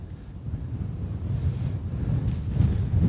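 Wind gusting outdoors at night during a full-moon photo shoot, a steady low rumble buffeting the microphone throughout with slight swells, no voices.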